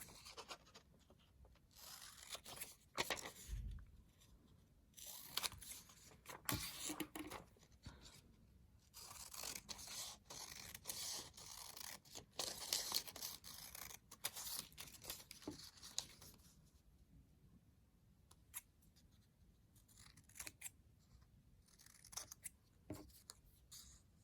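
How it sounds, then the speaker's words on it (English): Scissors snip through paper, cutting out small boxes along dotted lines in a run of close, crisp cuts with brief pauses and some paper rustling between them. "And then I'll cut out each of my little boxes around the dotted line."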